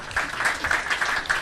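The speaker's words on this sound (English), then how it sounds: "That's where you applaud." Brief burst of audience applause during a livestreamed interview with Marilyn Manson and Smashing Pumpkins, a short, fairly even patter of many hands at moderate volume.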